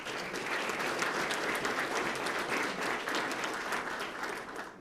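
A dense round of applause at a police swearing-in ceremony in Sarasota greets a newly sworn officer, steady and even from start to finish with no voices over it.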